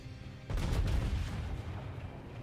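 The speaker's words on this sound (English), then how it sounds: "I'm trying to get those front guns on him." Main guns of the battleship Kongo firing in World of Warships: one sudden heavy boom followed by a long low rumbling decay that fills the rest of the moment.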